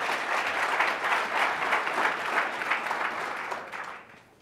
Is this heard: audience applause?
yes